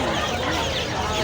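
Chickens cluck busily at a crowded poultry and pigeon market in Hemayetpur, Dhaka, a dense, continuous chorus of birds mixed with the general bustle of the market.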